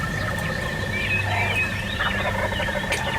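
Wild turkeys gobble near a ditch in farm country, a few distant rattling gobbles over faint outdoor ambience with other birds calling, soft and far off with no talking.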